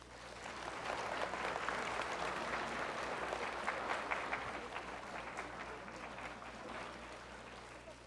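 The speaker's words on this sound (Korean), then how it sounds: "여러분 큰 박수로 맞이해 주십시오" Sustained applause from a seated audience welcoming a lecturer onto the stage at a televised talk on eczema, dense steady clapping lasting the whole stretch and easing off slightly toward the end.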